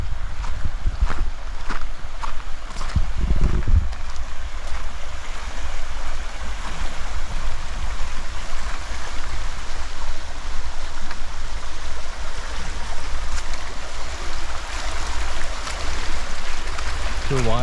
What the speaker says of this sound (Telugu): ఈ వాగు దాటాలి.